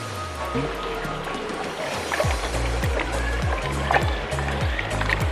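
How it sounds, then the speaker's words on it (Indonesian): Monstera (janda bolong) cuttings being rinsed in water, a steady close splashing and trickling with sloshing pulses throughout, over a constant low hum. "kita bisa mencucinya terlebih dahulu. Mari kita cuci dulu."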